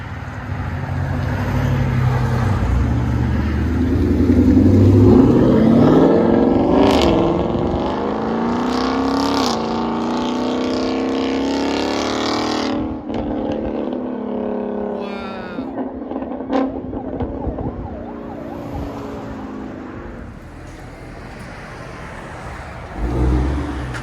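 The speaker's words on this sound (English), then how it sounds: "Ford Mustang Corsa Extreme Double Helix X-Pipe System catback. Here's what it sounds like." Ford Mustang fitted with a 3-inch Corsa Extreme Double Helix X-pipe catback exhaust, revving loud and close in several swelling bursts that rise and fall, with a deep rumble between throttle blips.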